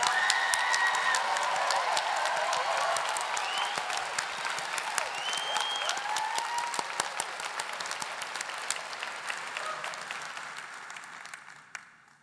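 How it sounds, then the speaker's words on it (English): An audience at a university social work commencement applauds the graduates with sustained, dense clapping and a few faint cheers, fading out toward the end. "Join me in a round of applause for all the soon-to-be graduates."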